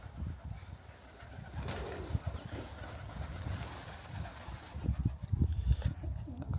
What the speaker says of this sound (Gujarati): કબૂતર બહુ જ આવ્યા છે